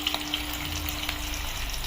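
Fish egg pakoras frying in hot oil in an Assamese home kitchen, a steady close sizzle and crackle that runs unbroken for the whole stretch with no voices.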